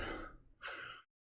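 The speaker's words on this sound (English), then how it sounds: "Why are you breathing so hard?" Heavy breathing from a person after exercise: two loud, close, gasping breaths in quick succession, then silence.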